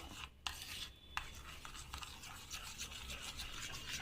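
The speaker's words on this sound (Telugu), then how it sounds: "ఇప్పుడు మిక్సింగ్ అనేది చేసేసుకోవాలి సో ఈ క్రీమ్లో బాగా మిక్స్ అయిపోవాలి" Homemade cream being stirred and mixed with rose water in a small container, giving a steady close scraping and rubbing sound with a few sharper knocks, alone and fairly quiet.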